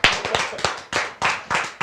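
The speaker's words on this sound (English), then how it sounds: "let's clap ourselves into the next segment" Hands clapping in a quick uneven burst of about nine sharp, loud, close claps over two seconds, with no voices.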